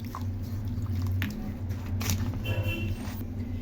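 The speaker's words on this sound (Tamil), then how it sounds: "கொஞ்சம் லைட்டாக தண்ணி ஊற்றி அப்படியே கலக்கிக்குங்க." A hand mixes rava idli batter of semolina and cucumber with a little water, giving close, wet, squelching squishes in an irregular stirring rhythm, with a low hum behind it.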